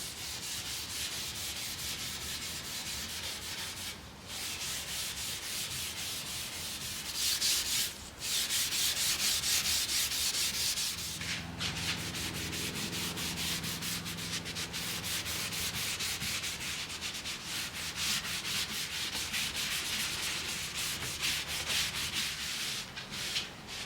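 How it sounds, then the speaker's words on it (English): Steel wool rubbed steadily across wood veneer on a mid-century modern piece of furniture, a continuous close scratchy hiss with brief pauses and shifts in stroke, no voices. "Using steel wool helps to create a super smooth, even finish to the veneer."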